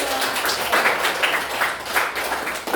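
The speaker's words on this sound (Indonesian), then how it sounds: "Oke, tepuk tangan dulu." A classroom of students clapping their hands together, a dense, steady patter of many overlapping claps lasting a few seconds at moderate loudness with no talking.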